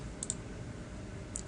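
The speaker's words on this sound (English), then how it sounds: "I'm gonna click on import again." A computer mouse gives a few quiet, sharp clicks, a quick pair near the start and another pair near the end, over faint room hum.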